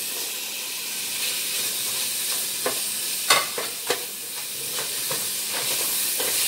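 Celery goes into a pot of cabbage soup, and a steady sizzle and hiss runs under a few scraping stirs and clicks.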